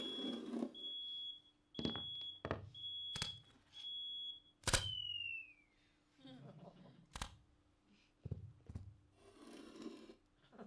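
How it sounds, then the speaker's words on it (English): A fire alarm sounds in a silent comedy sketch, a high steady beep repeating in bursts, broken by sharp clatters and thumps as it is switched off. "and that's to turn off the fire alarm."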